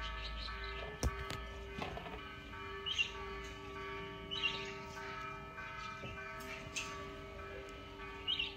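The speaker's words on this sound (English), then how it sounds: "The church bell is ringing." A church bell in a town in Mexico ringing in slow, resonant strokes from a distance, with faint bird chirps scattered over outdoor ambience.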